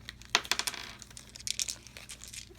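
Dice from a Castles of Burgundy board game box drop and clatter onto a surface, a few sharp clicks and rattles close by with faint rustling of packaging, no talking.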